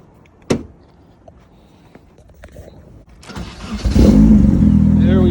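Car engine starting after a fuel pump swap: a sharp click, then a few seconds of quiet clunks and faint cranking before the engine catches and settles into a loud, steady idle close by.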